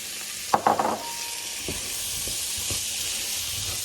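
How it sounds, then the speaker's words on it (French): Tomatoes drop into a pan of chicken curry with a few quick clattering thuds, followed by a loud, steady hissing sizzle from the hot oil and soft scraping stirs underneath. "Et maintenant, j'ajoute les tomates."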